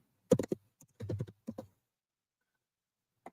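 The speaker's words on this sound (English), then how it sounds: "Let's type it in." Short bursts of keystrokes on a computer keyboard, close and crisp, in a few quick clusters separated by pauses, with one last isolated tap near the end.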